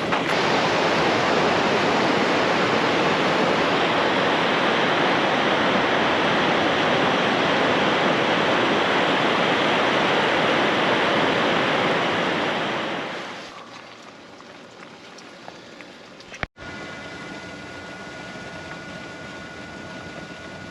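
Ocean surf on Agate Beach, Haida Gwaii, makes a loud, continuous broadband roar of crashing waves that drops abruptly after about thirteen seconds to a faint, steady background wash.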